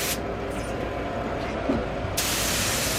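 A spray gun hisses steadily while painting Mercedes SL600 parts, a close, continuous broadband rush of overspray that strengthens and brightens near the end.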